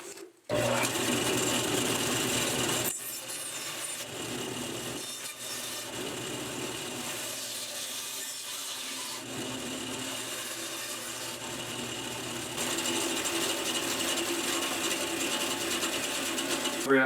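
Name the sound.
cutting a burl bowl blank round with a saw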